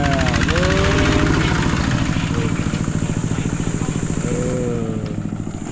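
A tractor engine chugs loudly and steadily nearby in a rapid, even throb, with a voice briefly heard over it.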